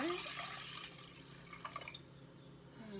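Elderberry syrup pours from a container into a pot, a soft steady liquid trickle with a few drips, close and quiet with no talking.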